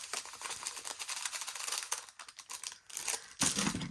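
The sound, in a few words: plastic bag of diamond art drills being cut open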